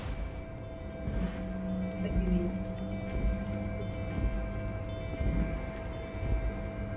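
Steady rain falls in the Disco Elysium game, a soft patter of drops on pavement by the harbor, accompanied by faint low tonal ambience and occasional louder spatters.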